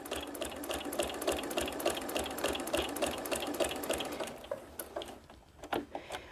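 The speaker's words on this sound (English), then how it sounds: "So I'm going to keep on stitching." A sewing machine stitching a fabric bowl cozy runs in a fast, steady rhythmic chatter up close for about five seconds, then slows and stops, followed by a few soft clicks and handling taps.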